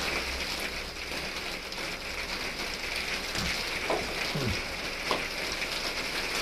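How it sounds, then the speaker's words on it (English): Rain falls outside in a steady, dense hiss of drops on surfaces, continuous and fairly loud, with a few faint thuds and no talking. "I hope the rain's not too loud."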